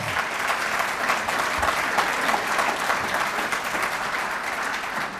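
Sustained applause from a civic audience at a city and county growth council meeting, steady and dense throughout with no breaks, heard at a moderate distance.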